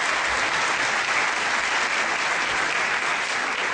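Loud, sustained applause fills the hall at a continental theology congress, a dense, even wash of many hands clapping for nearly four seconds without voices.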